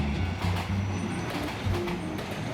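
A train rolls past a railway crossing in Tokyo with rhythmic wheel clatter and rumble over the rails, heard fairly close and continuous.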